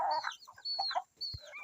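Farmyard chickens cluck while feeding, giving a short run of close, fairly soft clucks and squawky calls with brief pauses between them and no talking.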